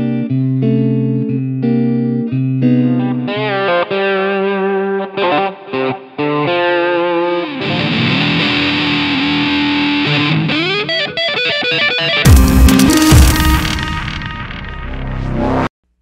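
Electric guitar through Overloud TH-U amp-simulation presets, shifting from clean chorused chords and picked notes to heavily distorted riffs and a harsh noisy burst near the end, loud and close with no talking.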